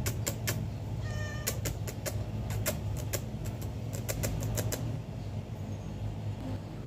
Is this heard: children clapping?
no